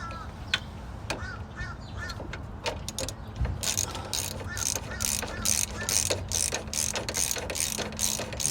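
A 5/8 wrench ratcheting on a brake bolt on the front brakes of a 4th-generation Firebird or Camaro, sounding as a quick series of sharp, close metallic clicks in rapid rhythmic bursts over a low background hum.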